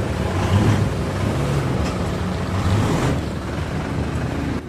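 A Mitsubishi Montero rolls forward and then brakes hard, giving a broad, steady rumble of tires and engine with wind buffeting and no brake squeal. The sound stays loud and close.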